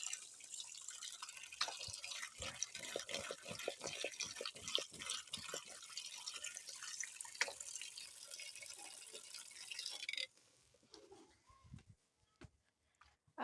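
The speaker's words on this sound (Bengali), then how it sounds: "তো এখন কিন্তু সিদ্ধ করা আলুগুলোকে আগে ধুয়ে নেব পানি দিয়ে।" Boiled potatoes are rinsed under running water in a home kitchen, a steady close splashing with drips that stops abruptly, leaving a few faint clinks and near silence.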